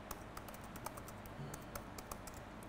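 A password being typed on a computer keyboard: quick, irregular key clicks with a few sharper taps, close and fairly quiet, with no talking.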